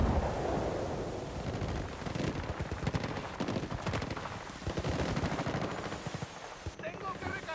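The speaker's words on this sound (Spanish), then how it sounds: "Pero es que se oyen disparos" Rapid automatic gunfire and bursts of shots from the video game Battlefield Bad Company 2, loud and continuous across the scene, with a voice talking over the battle.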